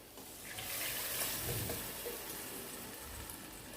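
Chicken boiled with ginger-garlic paste is tipped into a pan for chicken gravy along with its cooking water, giving a soft, close pour and splash that swells and then eases, with no talking.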